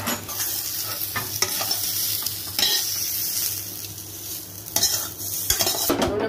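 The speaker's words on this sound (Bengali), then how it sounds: "এবার আমি দিয়ে দেবো নুন হলুদ মাখিয়ে কেটে রাখা শুকনো আম" Salted, turmeric-coated cut dried mango pieces are stirred in a hot pan over a five-spice tempering for raw mango pickle. Repeated scraping strokes of a spoon sound over a steady sizzle, and nobody talks.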